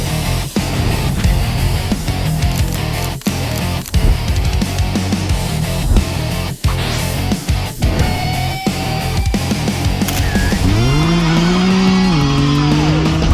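Car engines rev loudly in repeated bursts at a car meet, punctuated by sharp gear-change cuts, then one engine climbs steadily to a sustained high whine.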